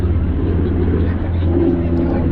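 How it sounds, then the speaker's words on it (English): A helicopter passing overhead, heard as a loud, continuous low rotor and engine rumble that stays steady throughout. "Got a helicopter here. Just come overhead a second."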